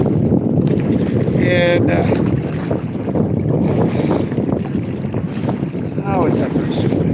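Wind gusts across open water while someone fishes from an outrigger boat, a loud, rushing buffeting on the microphone that persists throughout, with a person talking briefly over it.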